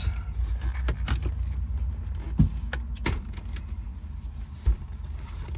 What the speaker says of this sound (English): Find my keys.